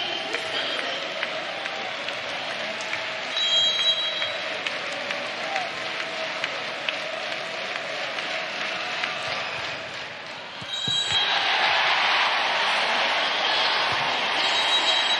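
A crowd roars and cheers in an arena at a women's college volleyball match between Wisconsin and Penn State, a sustained wash of noise that swells louder near the end.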